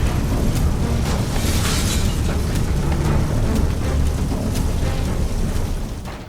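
An explosion effect in a Filipino radio drama: a loud, sustained roaring blast with crackling debris bursts throughout, dense and continuous for several seconds before fading at the end.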